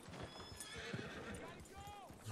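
Horse hooves clip-clopping with a whinny from a horse in the Red Dead Redemption 2 video game, set among many horses in the Old West; quick rhythmic hoofbeats and a rising-falling neigh near the end, with people talking over it.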